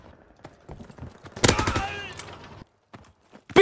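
Rapid gunfire bursts from a Call of Duty WW2 winter battle on Christmas Day, a dense volley of loud shots rising mid-clip over scattered fainter pops, with a voice shouting briefly.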